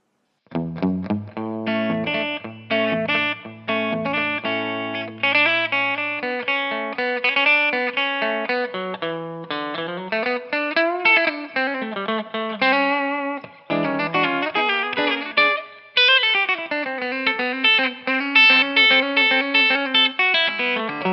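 A Rob Williams Set Neck Deluxe electric guitar plays on its back pickup with a clean tone, a continuous run of picked notes and chords with a shimmering chorus-like sheen and no voices.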